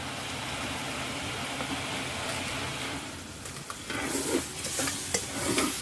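Chopped onions, shallots and tomatoes fry in a large catering pot for a chicken curry serving 100. A steady, dense sizzle runs throughout, and from midway the spoon scrapes and stirs audibly against the pan.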